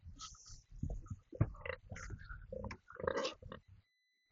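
A pig on a Costa Rican farm grunts and snuffles close by in short bursts, with wet chewing-like sounds between the grunts.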